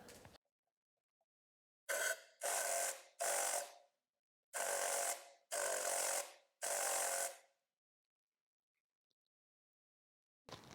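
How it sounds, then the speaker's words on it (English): Compressed air from a hose or electric duster blowing dust out of a spark plug hole on a BMW S55 engine, six short hissing bursts in quick succession, close and loud, separated by silence. "using some kind of air hose, or you can get one of those electronic dusters even"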